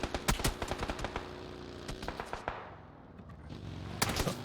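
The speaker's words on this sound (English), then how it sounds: "You do not shoot at me." Gunfire in the battle-royale video game PUBG: clustered rapid shots in bursts, some sharp and close, others more distant, pausing briefly before a final volley.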